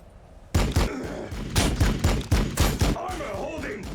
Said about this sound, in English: Let's fire up the bolter.